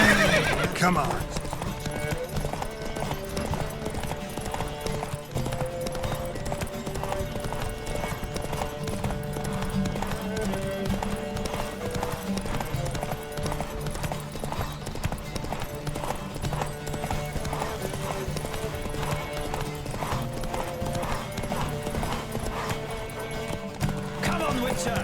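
Horse hooves clip-clop and gallop through a race in The Witcher 3, with a horse whinnying, steady over dense game music and voices talking throughout.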